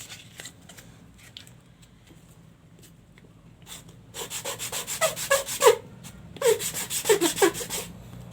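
Coarse sandpaper rubs a tiny metal part, the mouth of a 1.5 cm miniature jaws tool, in quick scratchy strokes, faint at first and then louder, rhythmic and close, with no talking.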